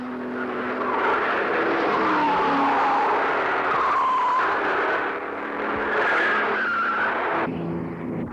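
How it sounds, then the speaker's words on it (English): Race cars at the 1966 Bathurst Gallaher 500, including small Coopers, Coronas, a Hillman and Toyota, with engines droning and tyres squealing through a corner, loud and continuous with pitch sweeping as cars pass. "the Cray Holland 997cc Cooper is still well in front, with 2 other similar cars a lap behind."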